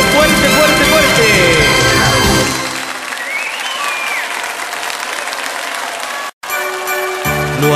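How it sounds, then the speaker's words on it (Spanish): Congregation applause during a Christmas religious song, with the music and singing fading out as steady clapping takes over, then a brief cut and more music returns at the end. "Fuerte el aplauso a la Virgen en la Navidad del Milenio."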